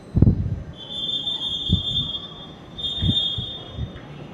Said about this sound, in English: here comes the whoosh train